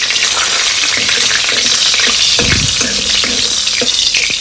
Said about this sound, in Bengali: এবার আমি আর একটু সামান্য সর্ষের তেল দিয়ে তেজপাতা আর দুটো শুকনো লঙ্কা হালকা করে ভেজে নেব।